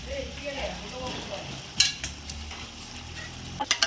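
Mutton for seeraga samba biryani gets stirred and sautéed in a pot outdoors, with a spoon scraping and clinking against metal over a soft sizzle in short uneven strokes.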